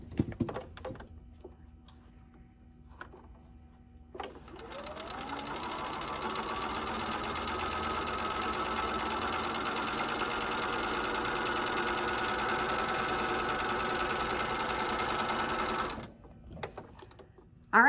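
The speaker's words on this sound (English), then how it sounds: "just going to sew a straight seam all the way to the end." A sewing machine runs a straight seam on a 4-H face mask for about twelve seconds, a steady close mechanical whir that starts and stops cleanly, with quiet handling sounds before and after.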